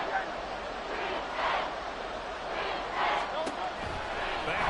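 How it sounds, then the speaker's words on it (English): Stadium crowd at an American football game roaring steadily throughout, swelling in waves as they try to force a false start on third and inches, with a sharp slap-like hit near the end. "this crowd trying to force a false start here."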